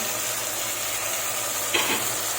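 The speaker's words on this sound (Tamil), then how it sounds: "வெங்காயம் நல்லா ப்ரௌன் ஆனதுக்கப்புறம் தக்காளி போட்டு நல்லா வணக்கிட்டு" Browned onion and tomato sauté in a pan with a steady, close sizzle, broken by a short stirring scrape near the end.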